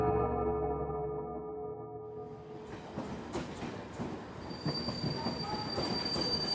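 A train pulls into a station: a sustained tonal note gives way to a rumbling rail roar with squealing wheels and metallic clatter that grows louder and close by.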